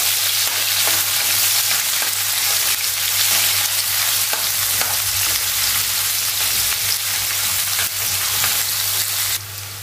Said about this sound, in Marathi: कांदा आता आपल्याला गुलाबी रंगावरती व्यवस्थित परतून घ्यायचा आहे